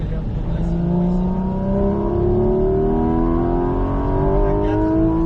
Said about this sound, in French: On reprend son filet de gaz. Et on réaccélère progressivement ici.